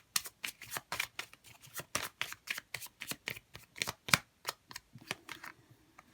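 Tarot cards being shuffled to draw three, a steady run of crisp, close riffling flicks in quick succession, clear and alone without talk.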